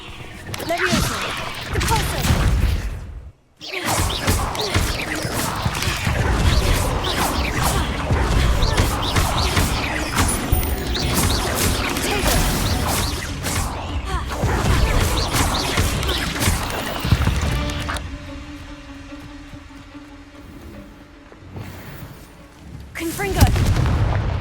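Spell effects in Hogwarts Legacy combat, Levioso and Repulsor, heard as loud repeated magical blasts, whooshes and impacts in a fast, dense barrage with a short gap early and a quieter tonal stretch near the end.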